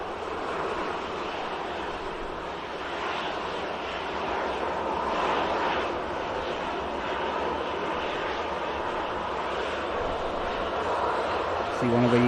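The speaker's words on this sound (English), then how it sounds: "That in shot is the EasyJet for Antalya" An EasyJet airliner bound for Antalya idles on the airport taxiway, its jet engines giving a steady, broad roar with a slight swell midway and a faint tonal whine rising near the end.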